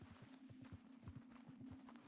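Horse hooves clip-clop in Red Dead Redemption, a quick steady rhythm of soft thuds over a low background hum, faint and close-ish, with no talking.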